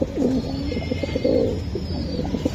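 Racing pigeons at a loft for sale give soft, rolling coos close by, several overlapping calls repeating steadily with no talking.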